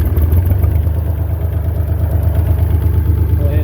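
A Massey Ferguson MF35 tractor engine runs with a loud, steady, clattering low rumble, heard close up and alone.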